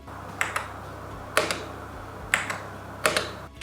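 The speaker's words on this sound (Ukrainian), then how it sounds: "а пробіл ще має додаткові демпфуючі вставки, і от він звучить приємно." Four evenly spaced clacks of the dampened space bar on a Logitech G Pro X 60 Lightspeed gaming keyboard being pressed and released, each a crisp double click, close and clear with no talking.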